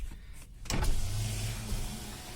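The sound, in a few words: Wagon R car power window moving with one-touch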